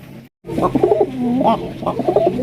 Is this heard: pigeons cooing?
yes